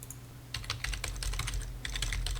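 Fingers tap out a short string on a computer keyboard, quick close clicks in uneven bursts over a faint steady hum, with no one talking.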